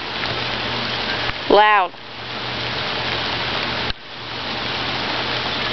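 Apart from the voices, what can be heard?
rain falling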